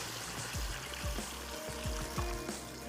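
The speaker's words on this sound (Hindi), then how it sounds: "थोड़ा सा इसमें और पानी ऐड करते हैं" Water pours into a cooking pot for Kashmiri pulao, a close, steady splashing trickle with small gurgling bubbles, running alone without talk.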